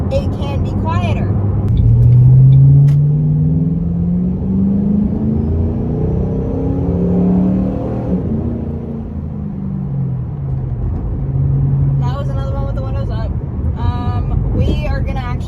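A car fitted with a Roush Extreme axle-back exhaust rumbles loudly nearby, its engine note rising and falling through revs with deep burbles, while someone talks over parts of it.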